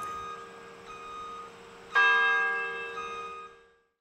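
Bells ringing from a campus bell tower, a long metallic chime that swells with a fresh strike midway and then fades away, moderately distant and alone.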